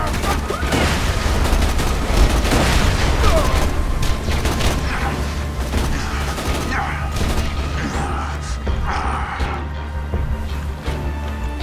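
A grenade blasts amid dense gunfire and chaotic combat noise in Borderlands 2, loud and close, with a crowded mix of booms and crackling shots throughout.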